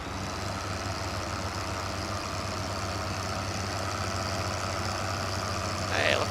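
A tractor engine idles in Farming Simulator 15, a steady low droning hum with constant tone, close and even throughout, ending with a brief higher swish near the end.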